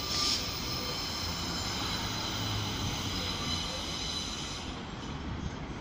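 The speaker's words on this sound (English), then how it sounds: "There's a pair of noisy pacers." A pair of Pacer diesel trains at Manchester Piccadilly station give off a loud, steady rail roar with a high squealing whine, continuous for the whole stretch.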